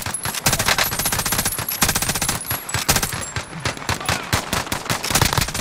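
Rapid, sustained machine gun fire in a video game, with dense bursts of shots rattling continuously and loudly for several seconds without pause.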